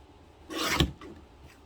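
A paper trimmer slices through a sheet of craft paper in a single quick stroke, a short close rasping cut lasting about half a second, then quiet.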